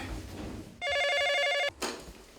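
A telephone rings once in a short electronic trill of rapid warbling tones, loud and close, between quieter room noise.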